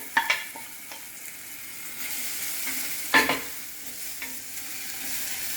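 Lardons and shallots frying in a pan, a steady soft sizzle punctuated by a few sharp clatters of a utensil against the pan, close by with no talk.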